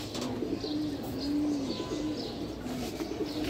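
Pigeons cooing nearby, several soft low throaty coos spaced through a few seconds over a steady ambient background, with no talking.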